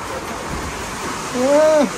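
Heavy rain falling in New Zealand makes a steady broadband hiss throughout, with a brief voice rising over it near the end.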